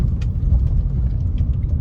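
A 2022 Hyundai Elantra SE rolls over speed bumps at normal speed, giving a low steady road rumble inside the cabin with faint light knocks from the suspension.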